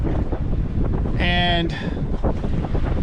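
Strong wind buffets the microphone on a sailboat at sea off Santa Barbara Island, a constant rough low roar with a brief tonal whine in the middle and a voice speaking briefly.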